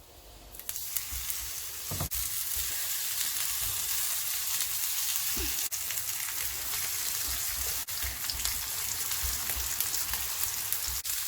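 Chicken cutlets frying in oil in a pan, a loud continuous crackling sizzle held steady for several seconds, with a few sharp clicks and knocks and no talking.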